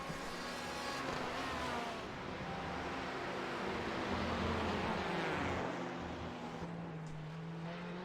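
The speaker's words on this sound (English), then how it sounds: "At the moment, by the way, we still have 16 cars out on the track." Race cars lap the Brands Hatch Indy circuit in a steady engine drone, with pitches sweeping up and down as cars pass at moderate distance, continuous and fairly quiet with no voices.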